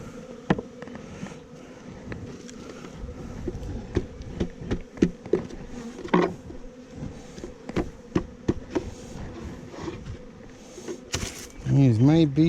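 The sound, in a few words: honeybees buzzing while shaken off frames into nuc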